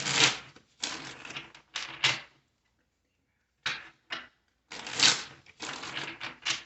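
Bursts of tarot card shuffling, crisp riffles and slaps in several runs with a pause in the middle, close and fairly loud.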